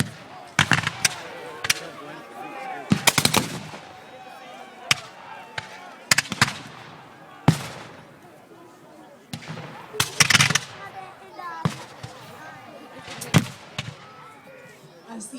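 Musket volleys and single shots crack out repeatedly, some near and some farther off, at a War of 1812 battle reenactment at Queenston, with crowd chatter and talk in between.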